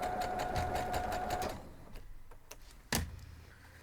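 A sewing machine stitching quilt block pieces runs steadily at close range with a rapid, even mechanical rhythm, then stops, leaving a few soft clicks and a single sharp knock.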